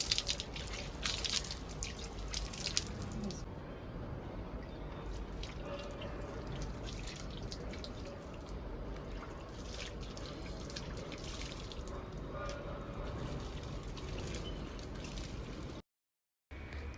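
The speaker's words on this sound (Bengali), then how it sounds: "গাছপালাতে প্রতিদিন তো আমার হাজব্যান্ড জল দেয় আজকে আমি দিচ্ছি" Garden plants being watered at home in summer, with steady splashing and dripping water throughout, close and continuous, with no talk.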